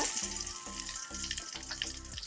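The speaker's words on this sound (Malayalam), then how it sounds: "വെളിച്ചെണ്ണ ചൂടായിട്ടുണ്ട് അതിലേക്ക് ഒരു ടീസ്പൂൺ കണക്കിട്ട് കൊടുക്കാം ഒരു വറ്റൽമുളക് ഇട്ട് കൊടുക്കാം അല്പം കറിവേപ്പില" Dried red chilli and curry leaves fry in hot coconut oil for a Kerala crab roast, a dense steady sizzle and crackle close up, with a few soft stirring knocks at regular intervals.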